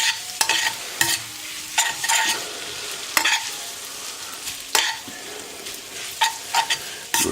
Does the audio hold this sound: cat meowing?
no